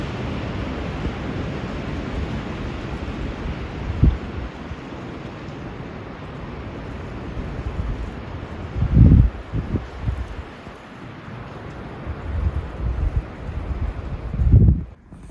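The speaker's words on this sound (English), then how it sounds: "Trees just blowing." Wind blows steadily through trees in an open outdoor spot, a continuous rushing roar with a few louder gusts or buffets against the microphone.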